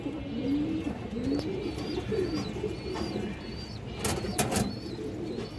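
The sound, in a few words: pigeon cooing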